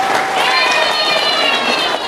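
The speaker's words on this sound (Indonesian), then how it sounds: "Tepuk tangan dulu." Applause from a community gathering in Lampung, a continuous dense wash of clapping with crowd noise, loud and close for a couple of seconds.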